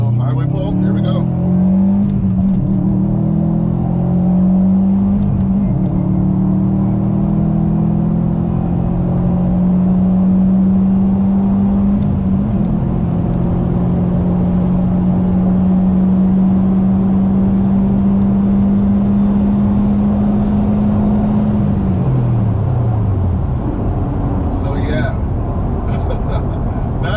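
A 2021 Subaru WRX STI with a Stage 1 tune accelerates hard on a highway, engine pitch climbing steadily through a long pull, dropping at a gear change, then climbing again, loud from inside the cabin.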